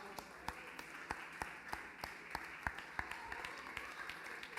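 A church congregation applauds, with sharp separate claps at a steady rhythm, fairly faint and a little distant, over a soft murmuring background.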